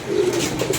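Pigeons in a loft cooing close by, a soft throaty coo running through a short moment, with no voices.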